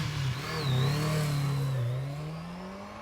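Wan's motorcycle engine revs up and holds at a strong mid-pitched drone, rising and falling slightly over a few seconds, loud and close with no talking.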